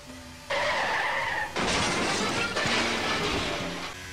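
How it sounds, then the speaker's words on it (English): Formula 1 race cars in the F1 23 game skid and spin out, with tires squealing and a crash crunching in, all in loud bursts over a steady engine drone. "there are some cars that spun here or crashed"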